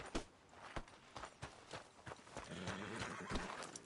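Horse hooves from a video game clip-clop at a steady walking pace, each step a distinct knock, with a snort or whinny partway through and ambient noise underneath.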